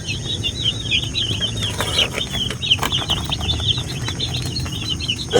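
Broiler chicks, two days old, peep and cheep continuously in a close, busy brooder chorus with steady background noise and no talking.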